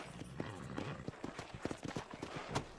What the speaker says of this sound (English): Let's hitch the horse.